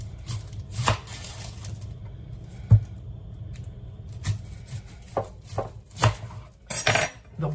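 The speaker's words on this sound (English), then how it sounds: "I'm going to chop up an onion." A knife chops an onion on a cutting board in a home kitchen, irregular sharp knocks spaced a second or so apart, close and clear with a faint background hum.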